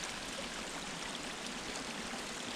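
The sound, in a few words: stream water crossing on Pinhoti Trail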